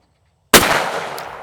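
After a brief quiet, one loud shotgun shot at a clay target bursts out with a sharp report, then trails off in a sustained outdoor reverberation that decays slowly.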